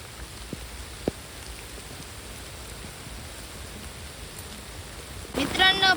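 Steady, soft rain falls through a first monsoon shower outdoors, a fine even hiss with a few louder drips; a voice starts near the end.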